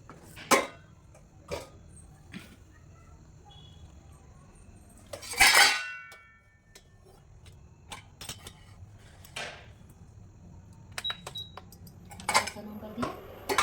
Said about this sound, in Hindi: मैं 1 टमाटर भी डालूंगी, तो ये भी ऐसे काट लेती हूँ।